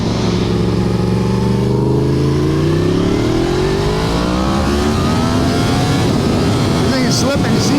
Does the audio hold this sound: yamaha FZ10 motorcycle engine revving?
yes